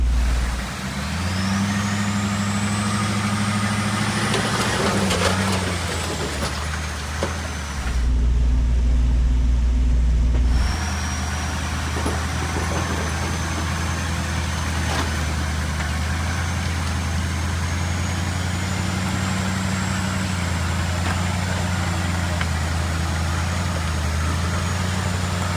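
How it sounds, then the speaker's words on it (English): A Jeep towing a trailer rolls slowly through a flooded river, its engine holding a low, steady rumble close by. Rushing water hisses underneath, and a short louder stretch of engine noise comes near the middle. "I'm going to do a real slow roll through here so I can adjust the earth suspension on the trailer."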